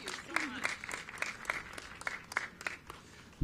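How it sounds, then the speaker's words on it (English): An audience at a mayoral event on early childhood investment applauds in a sparse, uneven patter of claps that stays fairly light and close for a few seconds. "Let's give Michelle a big round of applause"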